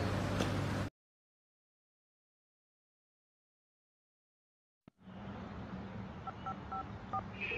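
A telephone call to England starts with a short burst of sound, then silence, then a click. Several rapid DTMF dialing beeps follow over a muffled line hiss.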